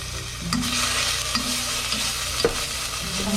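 Green curry paste stir-fried in a pan for Thai green curry with rice noodles, a steady loud sizzle with scraping stirs of the spatula recurring every second or so, no talking.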